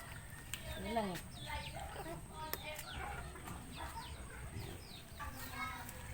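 Farmyard chickens and a small chick cluck and cheep in soft, scattered calls against a quiet outdoor background, while people talk nearby.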